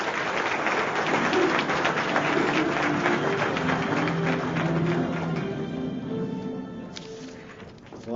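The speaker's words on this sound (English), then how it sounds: "Round of applause, please." Audience applause at a chamber of commerce gala dinner, a dense, steady wash of many hands clapping from a sizable crowd that holds for several seconds, then thins and fades toward the end with scattered voices underneath.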